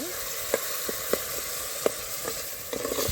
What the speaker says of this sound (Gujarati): ડુંગળી મરચાં એટલી વસ્તુ છે હવે એને પકાવીશું